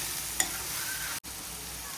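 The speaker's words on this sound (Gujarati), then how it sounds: "વચ્ચે વચ્ચે હલાવતા રહેશું।" Chopped ridge gourd frying in a pan as it is stirred, a constant bright sizzle with a short utensil scrape early on and a sudden brief break in the sound partway through.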